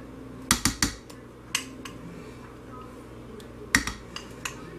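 A utensil scrapes soap-making oils out of a container for stick-blender hot process soap, producing sharp close clinks and knocks in small clusters with quiet gaps between them.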